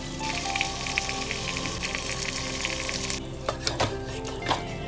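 Marinated chicken sizzles and spits in hot ghee with chopped coriander and dried chilli, a steady close frying hiss with a few sharper crackles and stirring clatters toward the end.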